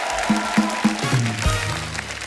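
Studio audience applause on The Kapil Sharma Show as guests Zaheer Iqbal and Mahat Raghavendra are welcomed: a steady wash of clapping that runs the whole time, mixed with loud stepped musical notes and no clear talk.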